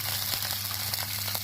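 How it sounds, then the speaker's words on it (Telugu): Water poured into a pan of sizzling mustard seed tempering for Gujarati khaman dhokla, a steady close hiss and bubbling crackle with no voices. "ఆవాలు వేగిపోయి ఇప్పుడు అందులో నేను 1 కప్పు నీళ్ళు పోసుకుంటున్నాను"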